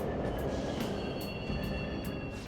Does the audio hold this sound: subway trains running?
yes